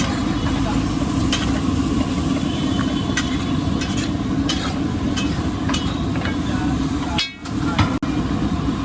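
Potatoes and frozen peas sizzle on a large street-side tawa griddle for pulao, giving a steady dense frying hiss with sharp metal scraping clanks of the spatula and a brief dip near the end.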